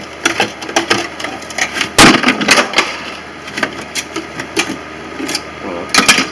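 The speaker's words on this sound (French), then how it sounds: "Je vais attraper le morceau de glace et vous allez voir la plaque elle va venir d'un seul coup." An ice sheet cracking and breaking off a freezer wall during defrosting, a series of sharp crunching snaps and clicks with one louder crack near the middle, close and unaccompanied by speech.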